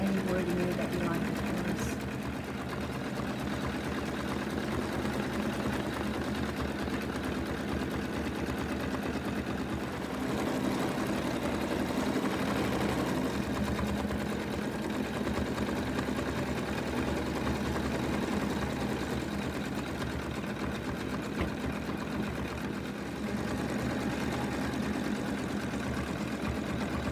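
An in-the-hoop embroidery machine stitches a name onto a Lottie the Lamb project, a steady mechanical whir and rapid needle patter running continuously up close, with a person talking over it throughout.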